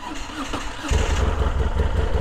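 A Moto Guzzi V7 motorcycle engine running at the start of a test ride, a steady low rumble that grows louder and fuller partway through, heard close up with no talking.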